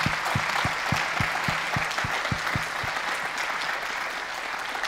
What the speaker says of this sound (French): je crois qu'on peut sincèrement vous applaudir